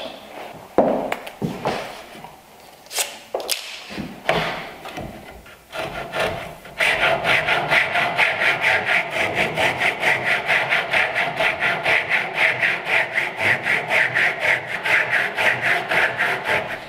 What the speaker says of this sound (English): So everything's clamped down and I'll just start to cut on both sides.